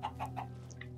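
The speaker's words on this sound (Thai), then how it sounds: "ล่อไก่เข้ามาในบ้าน" A Minecraft chicken gives three short, quick clucks in a row, close and clear over a low steady background hum.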